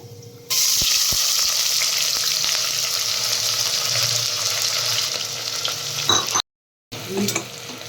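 Whole spices—cinnamon, cloves, pepper and cardamom—with onion sizzle steadily in hot oil, a loud continuous frying hiss with a few stirring scrapes and a brief cut near the end.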